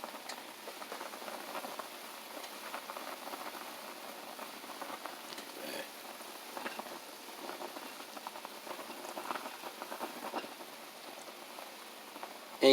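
Maruchan instant noodles boil in a pot, giving a steady soft bubbling and popping patter that runs on without pause at a low level.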